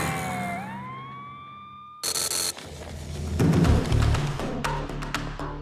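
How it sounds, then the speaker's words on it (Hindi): An ambulance siren wails on a busy road, rising and sweeping briefly before traffic noise and engine rumble take over with a loud blast and clattering motion. "एम्बुलेंस को रास्ता दो"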